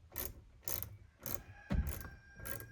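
A T-handle security bit ratchets out the safety screws on a Nissan 350Z steering wheel, making six evenly spaced, close clicking bursts with quiet gaps between them.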